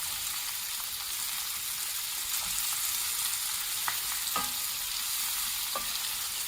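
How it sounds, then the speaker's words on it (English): Purple cabbage sautés in oil and butter, a quiet continuous sizzle with a few soft clicks and scrapes of a utensil turning it in the pan. "you're going to saute it until it's nice and soft"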